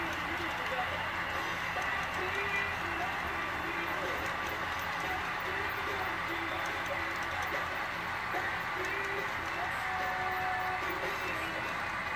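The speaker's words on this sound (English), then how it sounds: "I'll shut up and listen to the train." A small train runs steadily with a continuous rattling, clicking hum, moderately loud and unbroken throughout.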